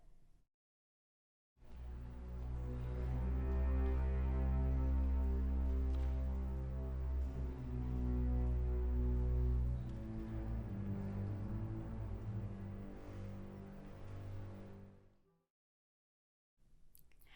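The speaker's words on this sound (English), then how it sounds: "the motto theme of the symphony is introduced by the low strings and then developed by the violins" Low orchestral strings play the motto theme of a Rachmaninoff symphony, a sustained, deep, swelling line that rises from silence, holds full and rich, then thins and fades away.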